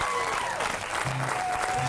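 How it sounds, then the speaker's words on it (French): Audience at an improv comedy cabaret applauding two comedians, a dense burst of clapping with faint crowd murmur and some brief tonal sounds mixed in underneath. "j'aimerais un autre bonne main d'applaudissement pour nos deux comédiens ici"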